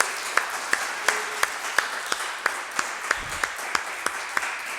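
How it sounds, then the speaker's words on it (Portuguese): Church congregation claps in a slow, evenly spaced rhythm, sharp distinct claps over a soft background hiss, moderately close. "Dá uma salva de palmas para ele."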